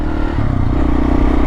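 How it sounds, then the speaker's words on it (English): Kawasaki KLR 650 single-cylinder motorcycle fitted with a Yoshimura RS4 slip-on exhaust, loud and close, a rough throbbing engine note with steady rumble and clatter. "So this bike has a slip-on muffler on it. It's a Yoshimura RS4. It's pretty loud."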